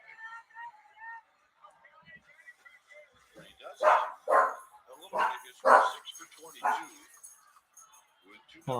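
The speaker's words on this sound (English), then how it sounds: "Hold on, my dogs are going crazy." Several dogs bark in loud bursts through the middle of the clip, behind a baseball radio play-by-play broadcast between Diamondbacks and Giants, with faint background sound around them.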